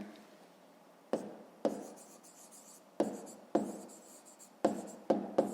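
A pen writes on paper during a fifth-grade maths lesson, giving quiet scratchy strokes in short bursts separated by brief pauses, with about eight distinct starts of writing.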